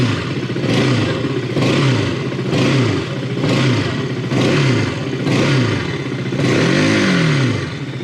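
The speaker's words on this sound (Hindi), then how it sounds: "सीट पे बैठने के बाद सबसे पहले सुनते हैं RC का साउंड।" A 2021 KTM RC 200 motorcycle's single-cylinder engine being revved with the throttle: about six short, loud blips rise and fall in a steady rhythm over a rough idle, close by and without speech.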